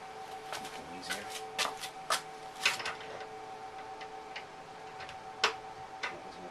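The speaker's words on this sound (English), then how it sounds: "Use my ratcheting wrenches." A ratcheting wrench clicks while working on a Donkey Kong Junior arcade cabinet, a scattered series of sharp, light ticks with uneven spacing, close by and otherwise quiet.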